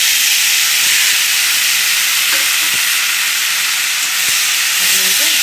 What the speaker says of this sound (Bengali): এই মুহূর্তে আমি সাবুদানাটা ছেড়ে দিই।